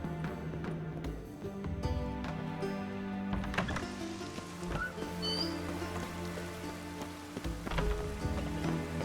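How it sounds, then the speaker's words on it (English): Steady rain in The Witcher 3: Wild Hunt patters on surfaces, a dense soft hiss with occasional louder drips, continuous and fairly quiet throughout. "I love the air after a good rain."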